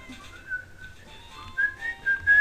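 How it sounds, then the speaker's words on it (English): A person whistles a short wavering tune into a cheap microphone, faint and thin, with a little breathy background noise. "so when I'm whistling, I promise I won't do that anymore"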